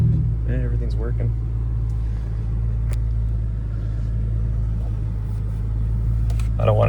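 A 2004 Ford Mustang GT convertible's V8 idles with a steady, low, loud rumble for the whole stretch, a smooth continuous drone with faint clicks above it.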